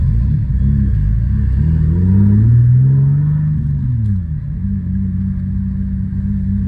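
A single-turbo G37 making over 700 horsepower on E85 pulls hard on wastegate boost, a loud, close, deep rumble rising in pitch through the gears and then settling back.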